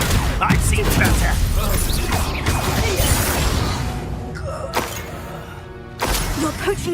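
Repeated Confringo fire-spell blasts in Hogwarts Legacy burst with whooshing impacts and crashes during a combat scene. A quieter gap follows, then another hit lands near the end.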